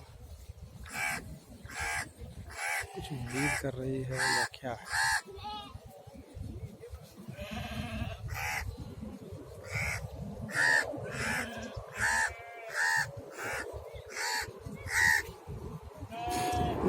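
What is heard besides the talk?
crow cawing near sheep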